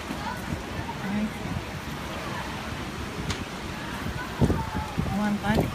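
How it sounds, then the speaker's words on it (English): Heavy rain pours steadily during a wind storm at a beachfront hotel, a dense hiss mixed with gusting wind and a few brief thumps, with no talking. "The rain's coming hard."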